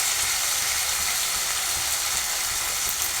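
Ginger garlic paste fries in a pan for a tomato egg curry, giving a steady, even hiss and sizzle with a faint rattling texture throughout.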